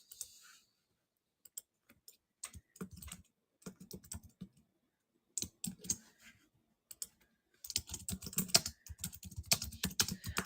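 Rapid keystrokes on a computer keyboard during a live online selling stream, arriving in short intermittent bursts separated by pauses and building to a dense, continuous run of clicks near the end.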